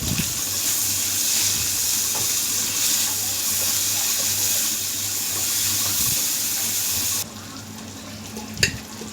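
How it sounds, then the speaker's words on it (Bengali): Chopped onions sizzle loudly in hot oil with a dense, even hiss that suddenly drops to a quieter sizzle near the end, followed by one sharp clink. "ওই তেলের মধ্যেই আমি দিয়ে দিলাম কাটা পেঁয়াজ।"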